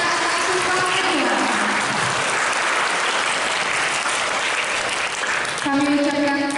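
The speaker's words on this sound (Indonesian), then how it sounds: "Marilah kita bersama berikan tepuk tangan kepada seluruh peserta Sumpah Kedua." An audience applauds at a teachers' professional oath ceremony at a university in 2019, with a steady, dense wash of clapping that continues throughout while a voice speaks over it near the end.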